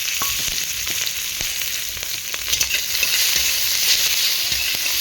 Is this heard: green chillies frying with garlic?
yes